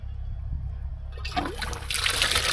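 Hot water poured over an iced tractor rod, running and splashing steadily, getting louder and brighter partway through, close by.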